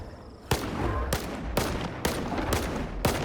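Heavy, booming Saiga D-12 shotgun blasts in STALKER 2 fire at a slow, steady pace, about one every half second, each loud and followed by a rumbling tail.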